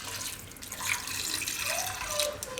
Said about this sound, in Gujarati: થોડુંક એમાં આપણે પાણી નાખી દેવું